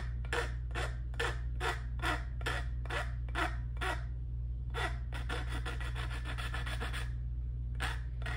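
A new pickguard for a vintage acoustic guitar gets its points rounded off by hand, a steady series of short rasping file strokes in regular rhythm, a pause, then a quicker run of strokes, over a low constant hum.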